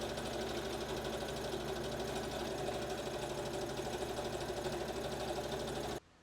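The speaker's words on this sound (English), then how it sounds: "we'll turn this back and then just sew that down really quickly so it sits inside the garment" A sewing machine runs steadily, stitching down a seam on a kimono wrap dress so it sits inside the garment; the close, even motor drone continues for about six seconds, then cuts off abruptly.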